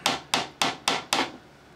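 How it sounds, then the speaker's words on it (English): Five sharp taps as an axle is knocked snugly into a 3D-printed windup robot frame, evenly spaced, close and clear with nothing else around them. "You should be able to tap it."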